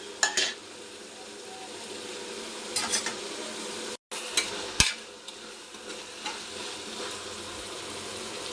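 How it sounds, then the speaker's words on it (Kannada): Vegetables with mint for veg pulao fry with a steady soft sizzle in a pan, stirred with a spoon that scrapes and clinks against the metal a few times. "ಇದನ್ನು ಅಷ್ಟೇ ಚೆನ್ನಾಗಿ ಫ್ರೈ ಮಾಡ್ಕೋಬೇಕು"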